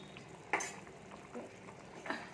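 A spoon stirs fish curry in a cooking pot, making a few short scrapes and clinks against the metal over about two seconds, with a soft simmer underneath and no talking.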